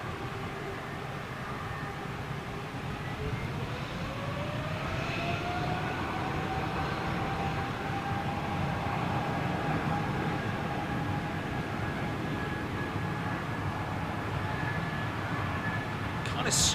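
A big jet engine at home spools up in one long, steady rise, its whine climbing slowly over a continuous loud roar that strains on near the end.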